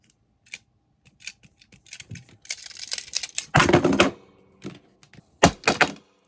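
A Leatherman multitool's scissors snip repeatedly and close up, giving sharp metallic clicks and a short burst of rapid cutting in a quiet room.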